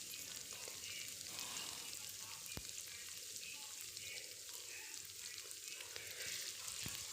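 Onions sizzle and crackle steadily in a hot pan while browning for chicken karahi, a faint continuous frying hiss with occasional soft pops and stirring.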